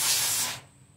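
An insecticide spray can hisses in one strong, continuous burst for about half a second at a hornet nest, then cuts off, leaving quiet.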